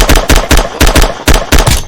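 Gunfire in the Roblox video game: seven sharp, loud shots fired in rapid succession at a fairly even rhythm, close and punchy, with no voices.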